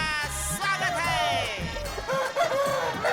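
Roosters crowing at a chicken fighting competition, several long rising-and-falling crows overlapping amid music and a busy crowd for about three seconds.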